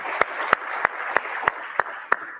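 Seven sharp, evenly spaced claps ring out at a steady rhythm, fairly faint over a soft murmur as an audience at a digital connectivity event applauds itself.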